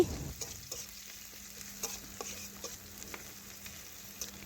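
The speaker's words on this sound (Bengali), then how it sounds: "এ দেখুন পেঁয়াজ ভাজা হয়ে গেছে আবার একটু নাড়াচাড়া করে নিচ্ছি" Chopped onions frying in a pan are stirred with a spatula, giving light scraping taps over a quiet, continuous sizzle, close by and with no talking.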